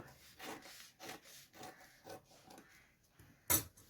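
Scissors cut fabric for a butterfly-style top, giving a run of soft rhythmic snipping and rubbing strokes, close and fairly quiet, ending with a sharper final snip.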